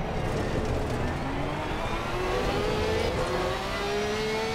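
Porsche GT3 race car engine in Assetto Corsa Competizione, a loud continuous drone with a rising pitch sweep as the car accelerates, dense and close with no gear-change gaps.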